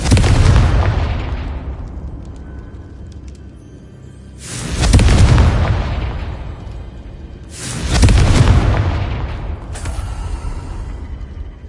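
Confringo spell blasts in the Hogwarts Legacy video game: three loud, deep booming explosions spaced a few seconds apart, each bursting suddenly and then rumbling away into a long fading tail.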